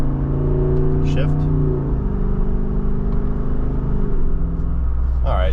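A 2023 Jeep Wrangler Rubicon 392 drives in third gear with a steady, loud engine drone heard from inside, and its pitch drops partway through as the transmission shifts.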